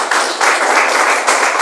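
A burst of dense, loud clapping from a church congregation, sustained and even throughout, close and filling the space.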